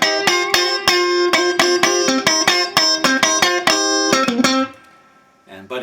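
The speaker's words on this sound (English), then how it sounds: "Octave licks." Electric guitar octave lick in C, a run of sharply picked doubled notes in steady rhythm for about four seconds before ringing out, played alone and up close.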